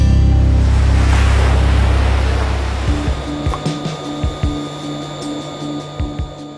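Steady broadband buzz of pumps running inside a raw water pump station, loud and continuous, fading somewhat midway as rhythmic clanks and a faint tonal hum come through, with no talking.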